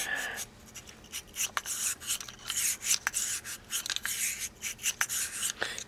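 A bore brush scrubs the inside of a gun barrel in quick, close, uneven strokes, a quiet rasping scratch with no other sound.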